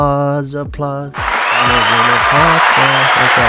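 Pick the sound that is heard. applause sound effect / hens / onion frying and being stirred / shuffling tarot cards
applause sound effect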